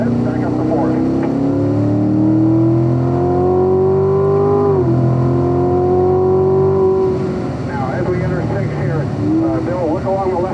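Corvette Stingray engine revving and accelerating hard on a race track, rising pitch sweeping up over several seconds then dropping at a shift, loud and close inside the cabin with an instructor talking over it.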